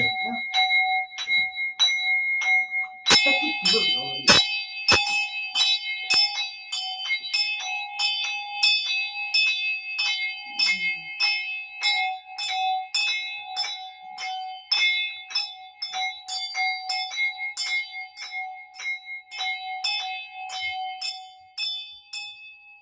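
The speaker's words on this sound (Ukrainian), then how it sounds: "Дзвоніть дзвони." Bells ring continuously in a fast, clanging peal during a Rakhmany Easter folk-tradition rite, many overlapping strokes at an irregular rhythm, loud and near, with a brief heavier clatter early on.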